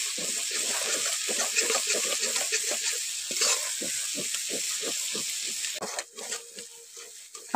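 Chicken bhuna masala spices fry and get stirred in a pan, giving a steady sizzle with repeated scraping strokes of the spoon throughout, close and fairly loud, with no one talking.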